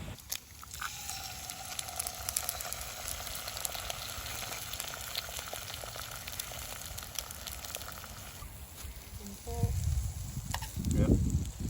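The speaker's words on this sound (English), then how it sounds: "Boiling already. That's not even 3 minutes, Dave." Water bubbling to a boil in a Jetboil camping stove outdoors in the woods, a steady close fizzing rumble that runs throughout and grows louder toward the end, with no talk over it.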